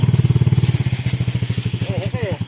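A motorcycle engine thuds in a fast, even pulse, close and loud, while a rider on a mushroom-foraging outing climbs a slope; excited voices break in over the engine toward the end.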